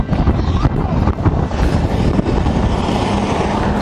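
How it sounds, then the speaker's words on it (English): Heavy wind buffets the microphone continuously, a loud rumbling roar with gusty fluctuations throughout. "Forgive me if it's windy."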